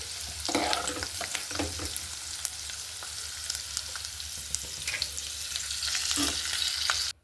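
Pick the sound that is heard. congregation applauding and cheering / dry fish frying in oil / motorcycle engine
dry fish frying in oil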